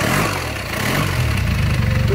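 A 1964 Velocette LE Mk3 200cc motorcycle engine runs at a steady, even idle close by, a low continuous hum with no talking.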